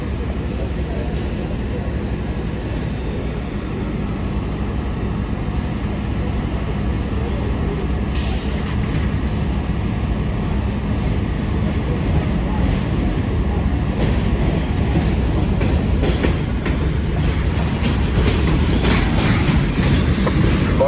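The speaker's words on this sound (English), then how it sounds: "The garbage train, very rarely seen." A garbage train passes close by on rails at a New York fire scene, a steady loud rumble with clattering wheels and brake hiss that builds toward the end, with no talk over it.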